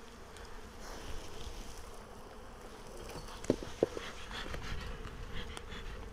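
Honeybees buzz at an open beehive with flow frames and a honey super during a beginner hive inspection, a dense, continuous close swarm hum with a couple of brief sharp clicks midway.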